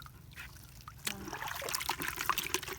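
Water poured over fresh shrimp to wash them, a close trickling and splashing that starts about a second in and runs continuously to the end.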